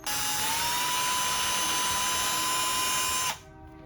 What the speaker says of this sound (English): So now we need to drill a hole directly in the center of that.